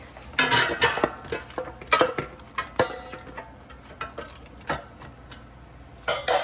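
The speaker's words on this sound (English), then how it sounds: "So just put it in the air fryer basket." Chicken pieces and frozen vegetables tumble into an air fryer basket, a run of close clattering knocks and scraping clinks against the metal, irregular and sharp, with no talking.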